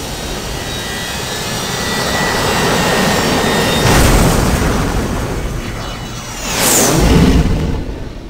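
An aircraft in the DOS game Cyberia 2: Resurrection, climbing toward Mach 6, gives a loud steady jet roar that swells twice with whooshing surges as it flies.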